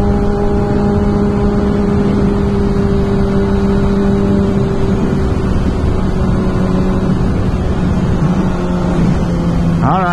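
Kawasaki ZX6R sport bike engine revving hard in third gear, a loud, sustained whine with steady rising tones, very close and dominating throughout, with a sharp pitch change right at the end.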